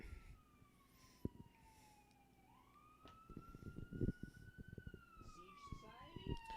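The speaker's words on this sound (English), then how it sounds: "we've got an ambulance behind me" An ambulance siren wails steadily behind, its pitch sliding up and holding, while people talk and movement noises clatter nearby.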